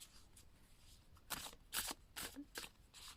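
Oracle cards being shuffled by hand, soft quiet riffles and slaps in several short bursts over a faint background hiss.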